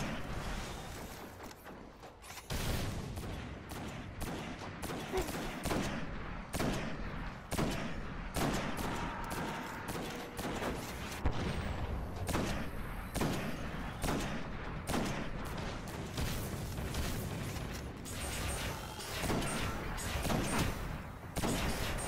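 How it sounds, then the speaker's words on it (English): Rapid launcher gunfire and explosions rattle on against tanks in the Destiny video game, a dense, continuous barrage of sharp reports lasting the whole stretch. "You can shoot this little launcher at the side of the tanks."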